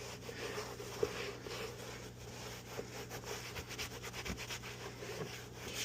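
Soft, steady rubbing on the leather of a vintage Coach bag, a damp, close scrubbing texture with faint taps, no talking, under a low background hum.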